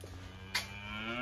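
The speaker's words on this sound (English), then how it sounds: "Picking up the cows I bought." Cows low close by in a long, steady moo with a low drawn-out tone, lasting the whole brief moment, with one sharp knock partway through.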